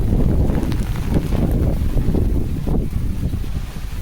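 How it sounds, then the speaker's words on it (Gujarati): Heavy rain driven by strong wind, a loud continuous rumbling roar with gusts buffeting the microphone and no speech. "અત્યારે વરસાદ આવી ગયો, પવન બહુ આવે છે."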